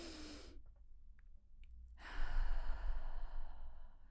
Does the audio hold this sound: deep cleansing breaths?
yes